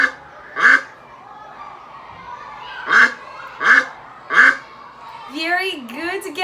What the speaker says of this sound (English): It's the duck.